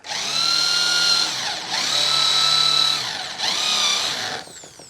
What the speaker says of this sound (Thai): เจาะลงไปสักสองเซนก็ได้ประมาณเกือบนิ้วอะ